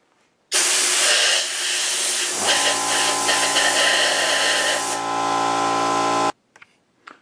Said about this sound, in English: Now I'm going to take my air compressor and blow out the holes.